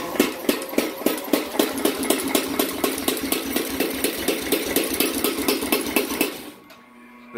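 A newly built tire hammer, a homemade blacksmith power hammer running without its dies fitted, pounds out a fast, steady rhythm of loud clattering blows for about six seconds before winding down to quiet.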